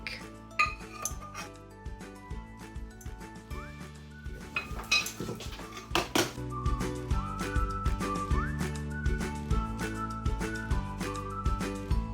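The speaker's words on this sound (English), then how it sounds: "We're going to dish up and we will come back." Sunday dinner being dished up in a home kitchen: pots, pans and cutlery clatter and clink in frequent sharp knocks and scrapes, over a steady tonal background.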